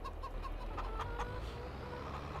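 Chickens and a rooster cluck in Farming Simulator 22, a steady scatter of soft bird calls over a constant low rumble of background sound.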